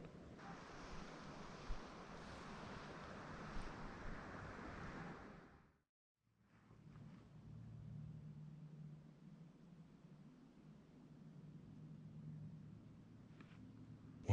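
Outdoor wind gusts during a deer hunt, roaring steadily then cutting out briefly before a softer rushing gust builds again, with a low hum underneath.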